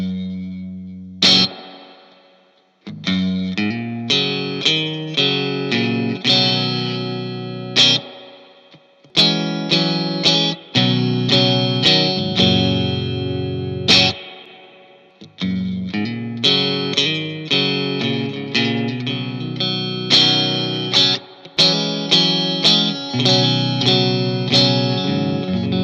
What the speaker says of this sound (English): comparing the reverb from both the GA-15 and the AC-15